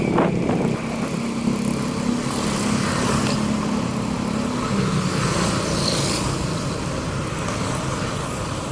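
Motorbike traffic on a village road in Indonesia, a continuous loud engine drone with one bike's tone held steady and then dropping away, set against broad roadway noise.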